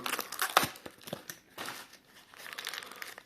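Packaging envelope holding silver-plated coins and spoons bought at auction being handled and unwrapped, with a run of close crinkling, rustling and tearing bursts, alone and fairly quiet.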